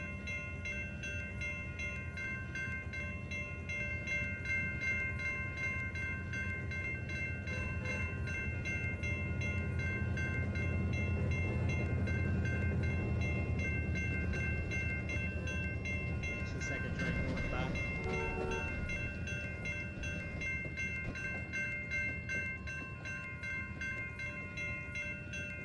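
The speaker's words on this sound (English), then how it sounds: "And then here comes the second train on the other track, which I'm not honking through." A second train rolls past on an adjacent track in the Trainz: A New Era railroad simulator, a steady rumbling, clattering drone that swells and holds for the whole stretch without a horn.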